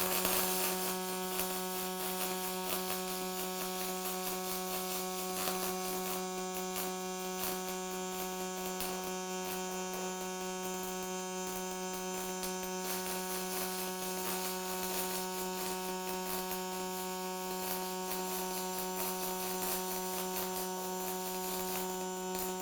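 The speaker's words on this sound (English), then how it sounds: "We're going to enable our weld, grab our protective gear, and cycle start to weld." An automated arc welding machine running a multi-directional weld cycle gives off a steady, unbroken electrical hum and buzz with a faint crackle. It holds even at moderate level for over twenty seconds.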